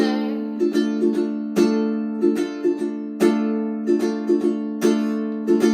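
A ukulele is strummed in a steady repeating pattern of quick down and up strokes, bright and close, with no voice.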